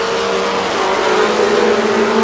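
A pack of mini stock race cars accelerates off turn four at the green flag of a 15-lap feature at Star Speedway in 1990, engines roaring loud and steady with rising tonal whine, no voices.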